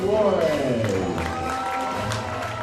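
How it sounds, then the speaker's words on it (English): A baseball crowd applauds a Staff Sergeant honoured at a minor-league game, a steady wash of clapping and cheering heard at a distance beneath a loud announcer's voice. "big round of applause for Staff Sergeant Carlos Flores"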